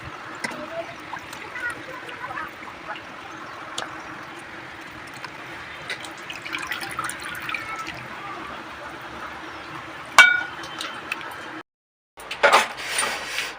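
Raw chicken rinsed under running tap water in a home kitchen, a steady close wash of flowing water with occasional splashes and a sharp knock near the end.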